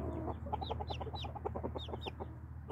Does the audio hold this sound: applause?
no